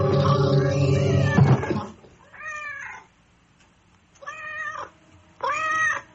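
A cat meows three times in a radio horror drama, each a clear, drawn-out cry separated by short pauses, following a loud burst of sound at the start; the meows are close and distinct.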